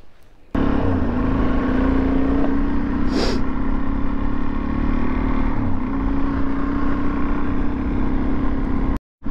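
A dual sport motorcycle ridden on a forest trail in the Sumter National Forest, its engine a loud, close, sustained drone with a brief rise in revs, under heavy wind rush, stopping abruptly near the end.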